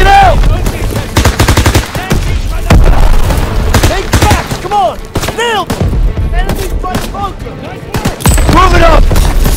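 Grenade blast and heavy gunfire from a Call of Duty WWII D-Day beach mission, with bursts of machine gun fire and booms throughout, loud and dense, while soldiers shout over the battle.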